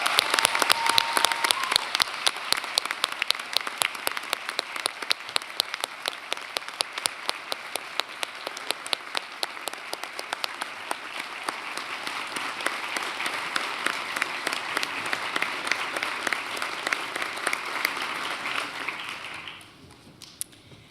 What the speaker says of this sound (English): Please join me in a warm ovation for Professor Tom Garrett.